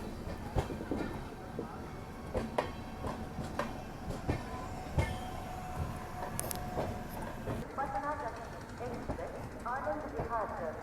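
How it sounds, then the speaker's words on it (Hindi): The Himgiri Express heading toward Banaras rolls past with a steady, rhythmic clatter of wheels over rail joints and occasional metallic squeals, while voices talk over the noise. "और ये है हिमगिरी एक्सप्रेस, ये जा रही है बनारस की तरफ"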